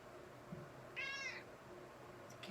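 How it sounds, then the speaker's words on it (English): A house cat meows once during a piano lesson, a short drawn-out call standing out over a quiet room background, with a faint tap or two nearby. "My cat and my dog are trying to get in on the lesson here."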